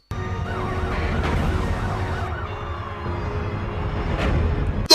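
Ambulance siren wailing in a repeating up-and-down pattern, moderately loud and steady throughout, over a dense bed of low rumble and surrounding noise.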